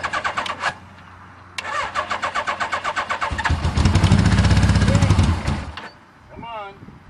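Cold winter start of a Suzuki GS850G street motorcycle: rapid repeated starter cranking, a pause, more cranking, then the engine catches and roars briefly before dying back, with a short spoken phrase near the end.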